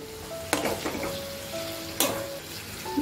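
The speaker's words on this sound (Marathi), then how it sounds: "आपण एकदा तेलात टाकलं ना तर जरा त्या कडक व्हायला लागतं." Prawns frying in hot oil in a home kitchen, with a steady close sizzle throughout and two sharp clatters of a utensil against the pan as they are stirred, with no talking.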